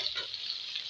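Potatoes fry in a pan on a gas stove with a soft, continuous hissing sizzle, brief and fairly quiet.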